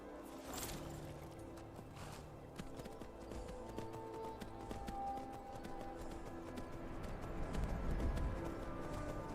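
Horse hooves clip-clop steadily while riding through the open world of Skyrim, a rhythmic run of hoofbeats layered over ambient game background noise, with no talking.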